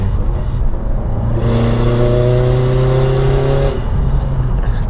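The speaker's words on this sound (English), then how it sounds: "You can hear the engine and some turbo noises." A 2015 Subaru WRX STI engine revs loudly and close, its exhaust roaring as a rising turbo whine climbs and then cuts off, with wastegate noise.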